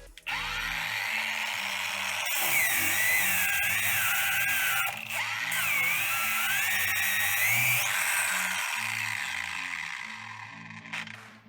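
A Procraft brushless angle grinder running at minimum speed, a steady whining motor hum with gently wavering pitch, close and loud for most of the clip before winding down near the end.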